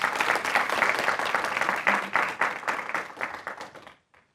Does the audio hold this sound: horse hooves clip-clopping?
no